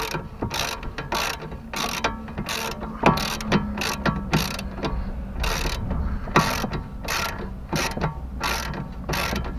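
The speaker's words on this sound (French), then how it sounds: "Là vous serrez au maximum ce que vous pouvez serrer." A hand ratchet tightens the stabilizer link nut on a BMW E46 3 Series, its pawl clicking in quick, regular bursts of strokes, close and loud with no talk.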